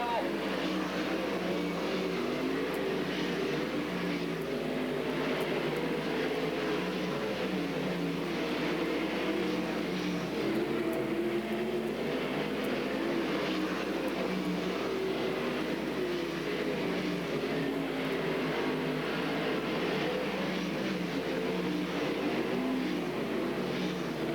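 360 sprint cars race around the Skagit Speedway oval in a dense, continuous engine roar that holds steady the whole time, with a commentator talking over the field.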